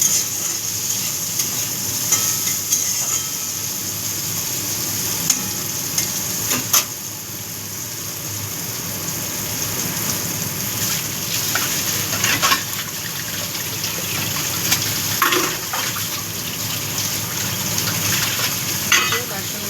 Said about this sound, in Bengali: উচ্ছে ভাজাটা একটু নেড়ে নেব।